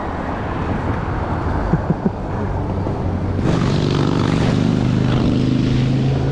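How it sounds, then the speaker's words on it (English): A motorcycle passes at night during an electric bike ride, a rising engine rumble that swells midway and holds loud over constant wind and road noise. "I heard that motorcycle."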